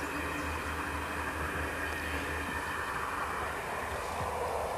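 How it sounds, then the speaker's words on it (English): A steady, broad rumble of a train passing at a distance, continuous and unbroken throughout, with no voices. "There's a lot of trains going by today."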